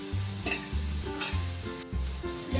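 Fresh curry leaves hit hot oil in a pan while a Tamil wheat roti, or wheat adai, is being made, giving a steady close sizzle with a few brief stirring bursts.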